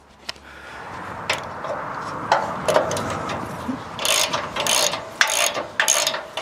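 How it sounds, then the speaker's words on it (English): A hand ratchet tightens bolts on a Land Rover 300TDI 4x4 chassis. Its sharp clicks come in quick bursts, loud and close, growing busier in the second half. "Finish that one with a ratchet"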